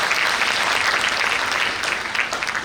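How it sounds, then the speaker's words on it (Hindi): Students at a question session with the Rajasthan BJP president break into steady, loud applause that fills the room evenly from start to finish, with no voices rising above it. "तालियां इसी बात पे।"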